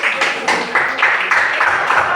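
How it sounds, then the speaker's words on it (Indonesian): A class group claps together in a classroom, a brief burst of dense, close applause with a steady rhythmic pattern of hand claps. "Mana tepuk tangan?"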